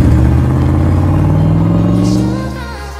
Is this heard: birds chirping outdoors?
no